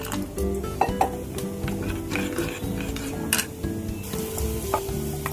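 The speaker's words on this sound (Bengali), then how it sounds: "পেঁয়াজটা আমাদের খুব ভালো মতো ভাজা হয়ে গেছে" Onions sizzling steadily in a hot pan, with a spoon stirring and occasional light clinks of utensils against the pan.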